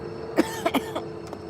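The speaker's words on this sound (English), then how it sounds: "If I can stop coughing." A few short, muffled coughs sound close by against a steady background hum.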